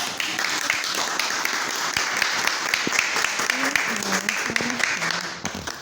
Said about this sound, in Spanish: Dejamos un fuerte aplauso.